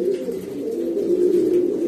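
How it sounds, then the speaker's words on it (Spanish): A breeding male pigeon coos in a low, steady throaty murmur for about two seconds, close and fairly loud with no talking. "Este palomo es semental, hermano de mi papá, hijo de la paloma Fide también"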